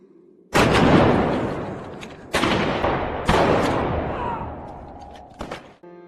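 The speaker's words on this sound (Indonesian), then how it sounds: "Para bandit gurun itu kemudian menembak ke arah Hussein." Desert bandits open fire in the film Theeb: three loud, sharp gunshots ring out a second or two apart, each trailing off into a long echoing decay over low ambience.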